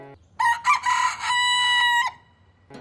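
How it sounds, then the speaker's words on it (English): A pet chicken crows once loudly and close, a strained drawn-out call with a few clucks around it, set apart by short stretches of quiet. "I'm talking about a pet chicken."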